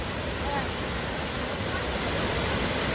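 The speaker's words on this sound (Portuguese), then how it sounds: "Cachoeira Sete Quedas. Essa aqui é a última queda dela" Steady broadband roar of the last drop of the Sete Quedas waterfall at a campground swimming hole, continuous and fairly loud with no pauses, heard alone without talk.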